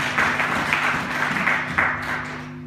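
Church congregation clapping and cheering in praise of Jesus during a sermon, a continuous wash of applause with some shouts over a sustained organ-like tone.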